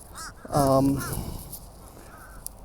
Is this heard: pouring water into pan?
no